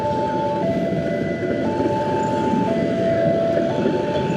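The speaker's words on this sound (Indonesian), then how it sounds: "Kereta Petani dari Merak tuh ada di belakang." Kereta Petani passenger train from Merak rolls past near Rangkasbitung, a loud, steady, close rumble of wheels and cars with a faint humming tone throughout.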